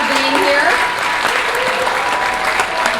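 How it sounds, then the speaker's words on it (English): An audience at a Los Angeles mayoral candidates forum in the Warner Grand Theater claps steadily and fully from start to finish, a dense, even wash of applause filling the hall. "I just want to give them a round of applause for joining us today"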